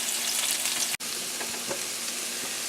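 Potatoes, apple and onion fry together in a pan with a loud, continuous sizzle and crackle, broken only by a very brief dropout about a third of the way in, with soft pops and stirring clicks after it.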